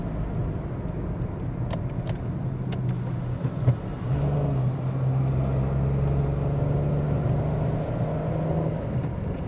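A car drives along a road, giving a continuous low engine and tyre rumble that swells slightly partway through, with no speech.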